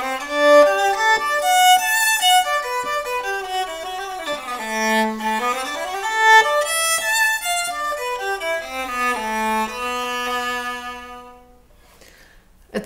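Violin fitted with a heavy metal practice mute plays a muffled, subdued melody of sustained and sliding notes, close and alone, fading out at the end.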